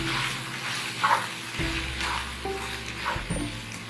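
Beef keema mince sizzles steadily in a pan, a continuous close crackle and hiss with occasional stirring clatter, no voices.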